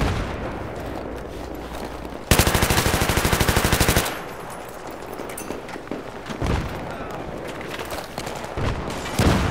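M249 machine gun fire in Battlefield 3 on the Bazaar map, one loud sustained automatic burst of rapid even shots lasting nearly two seconds, followed by scattered shorter bursts and distant gunfire.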